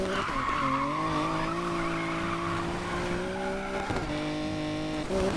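A Nissan Skyline GT-R R34 in Need for Speed Payback revs hard and skids, its engine tone rising and dropping through gear changes over a continuous loud tire squeal.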